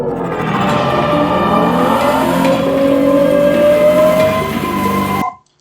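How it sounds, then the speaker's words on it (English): A Ferrari Purosangue V12 SUV revs loud and close, its engine note climbing steadily for about five seconds before cutting off abruptly. "Ferrari Purosangue SUV V12."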